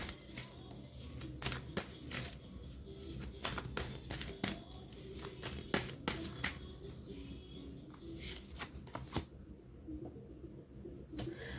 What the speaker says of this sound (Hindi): Let me take out some more cards.